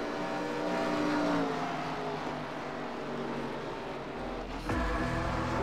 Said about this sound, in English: You hear that? Cars on track.